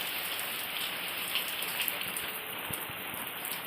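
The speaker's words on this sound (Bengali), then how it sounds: "দেখো বোঝা যাচ্ছে বৃষ্টি পড়ছে" Steady rain falling, a soft continuous patter with occasional louder drops, no voices.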